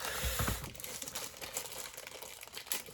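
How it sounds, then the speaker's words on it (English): A plastic bag holding an airbrush from an unboxing is opened, giving a loud crinkling rustle at first, then lighter irregular crackles and rustles continuing close by without speech. "Let's get the plastic bag open."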